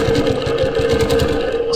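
A longarm quilting machine stitches straight lines with a ruler, giving a steady, close mechanical hum with a rapid rhythmic needle pulse running continuously throughout.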